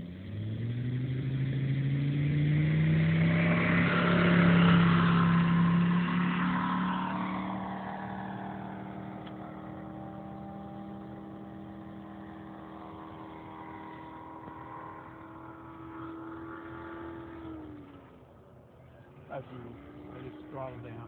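A P-47 fighter aircraft's piston engine on takeoff, a loud, steady droning roar that swells early, then holds and slowly fades before cutting down near the end.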